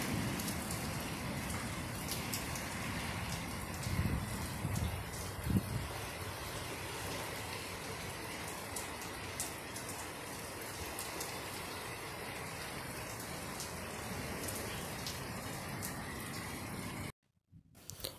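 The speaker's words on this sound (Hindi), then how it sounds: "तो आज ना बाहर आंधी तूफान बारिश वगैरह हो रहे हैं।" Heavy rain pours steadily during a windy storm with thunder-like gusts, a dense, even hiss of drops on surfaces, with a brief gap near the end.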